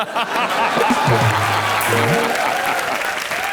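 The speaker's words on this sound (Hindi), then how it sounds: "जोरदार तालियां कॉमेडी नाइट बचाओ में" Studio audience on a comedy show breaks into loud, sustained applause that fills the whole stretch, with a brief musical tone rising underneath partway through.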